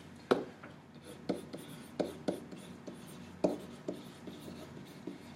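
Chalk or marker strokes tap and scrape across a classroom board in short bursts, a series of quiet, uneven knocks and scratches spread across several seconds.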